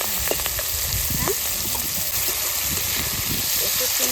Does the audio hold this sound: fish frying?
yes